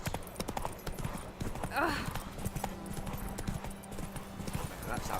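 Hooves of the horse Roach clip-clopping in The Witcher 3, a steady rhythmic trot of clear close hoof strikes continuing throughout, with a brief whinny partway.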